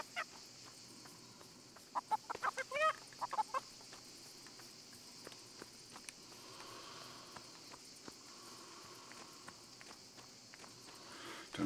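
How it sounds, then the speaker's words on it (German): Chickens clucking in the farming game Everdream Valley, a cluster of short calls early on over a steady bed of insect chirps and soft footsteps, then quieter ambience. "Da ist das letzte Huhn."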